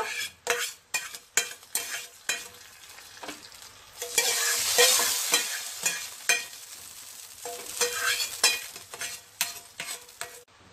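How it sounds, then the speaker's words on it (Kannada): Tempering of curry leaves for amtekai rasam sizzles in hot oil, with a burst of loud hissing midway and repeated sharp spoon clinks and scrapes against the pot, fairly close and with no talking. "ಈ ಮಾಡ್ಕೊಂಡಿದ್ದ ಒಗ್ಗರಣೆನ ಅಂಟೆಕಾಯಿ ರಸಮ್ಗೆ ಹಾಕಬೇಕು"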